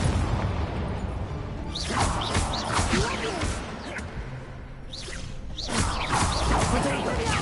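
Fire spell cast during combat in Hogwarts Legacy, a burst and whoosh among other booming spell blasts and crashes, with a player shouting spell names over the dense game action.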